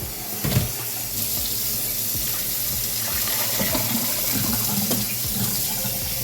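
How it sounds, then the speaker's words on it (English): Water pours from a tap into a pot of black beans for Haitian-style beans, a steady close rushing stream that runs throughout with no talking. "So I'm going to add a good amount of water to this."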